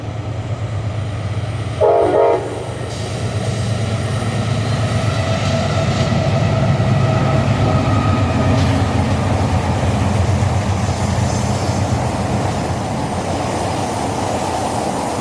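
The Railroad Revival Tour train sounds a loud horn blast early on, then rumbles past steadily for a long stretch with a continuous roar of wheels and cars, close and heavy with no talking.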